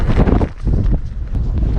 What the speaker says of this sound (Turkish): çok rüzgar var şu an